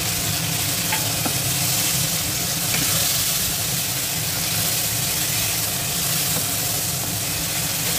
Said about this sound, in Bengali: দিয়ে ভালোভাবে আমি এটাকে নেড়ে নেড়ে ভেজে নেব।